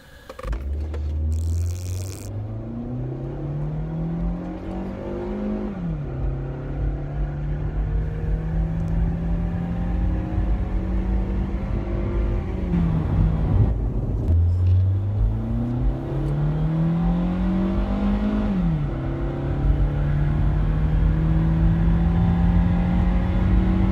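A 2005 Toyota Matrix accelerates hard on a drag run: the engine rises through repeated rev climbs with short dips at each gear shift. It sounds loud and steady from inside the car, with no talking.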